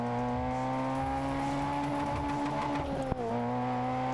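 Honda Integra Type R engine in the GRID Autosport racing game on Nintendo Switch, a steady high-revving drone held near redline, with a brief gear shift and a dip in pitch near the end, no talk.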